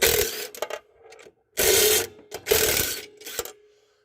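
A ratchet wrench clicks in quick bursts while 13 mm nuts and bolts are backed off a big truck's hose-reel mounting, with short pauses between the loud, close, rapid pawl clatter.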